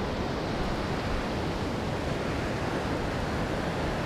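Ocean waves roll in along a shoreline, a steady, loud broadband wash of surf with no pauses, close and continuous throughout.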